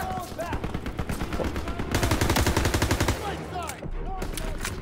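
Gunfire in the video game Call of Duty WW2: a fast automatic burst of evenly spaced shots, loud and close, with scattered single reports before and after amid game noise.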